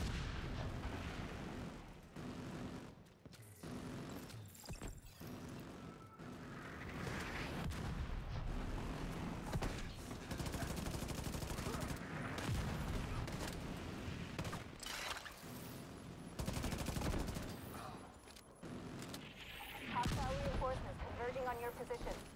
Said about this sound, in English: Watch out for mortars! I see mortars on the roof, and we've got a lot of hostiles ahead.